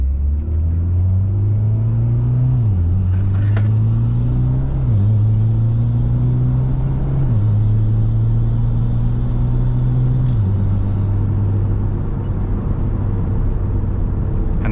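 Mitsubishi Lancer Evolution X engine with a test pipe exhaust, heard steadily from inside the car as it drives, holding a loud low drone that climbs and drops through several gear changes, with no talking.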